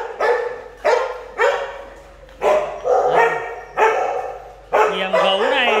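A Vietnamese native dog barks close by, loud and repeated, roughly one bark per second with short pauses between and a whiny edge on the later barks.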